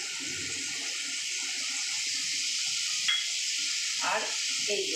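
Turmeric and chili paste hits onions frying in a pan for a fish curry and sets off a steady watery sizzle. A few brief clinks and stirring sounds come through near the end.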